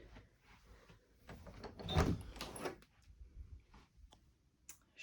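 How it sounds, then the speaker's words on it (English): The privacy door of a 2016 Forest River FR3 32DS motorhome slides out, a short scraping rumble with a few light clicks and knocks, close and fairly quiet, with no talking. "Privacy door to pull out."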